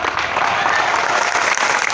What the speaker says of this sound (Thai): อยากขอให้พี่น้องปรบมือดังๆ